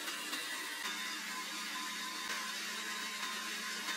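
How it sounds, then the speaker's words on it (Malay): A blender grinds spice paste ingredients, including oyster sauce, with a little water for nasi lemak. It makes a steady, continuous whirring drone that stays even throughout, with no voices. "Masukkan sekali ke dalam balang blender bersama dengan sedikit air dan kisarkan sehingga halus."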